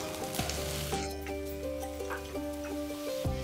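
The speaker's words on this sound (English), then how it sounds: "Saute the onions till they're nice and brown." Onions, ginger garlic paste and chopped tomato sizzle and fry in a pan for fish curry, a soft steady crackle with a few clinks of stirring, close and quiet with no one speaking.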